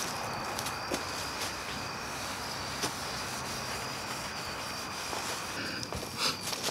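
A car body panel is wiped down with Duplicolor wax and grease remover before painting, giving a steady, close cloth-rubbing hiss that runs continuously with a few light knocks.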